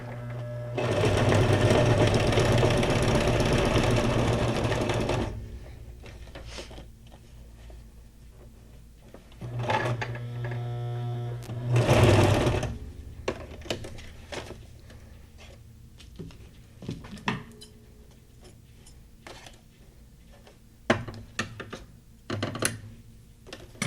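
A sewing machine runs a straight stitch on fabric scraps in a loud, rapid whirring burst for about five seconds, then gives two shorter runs among quiet handling clicks and rustles.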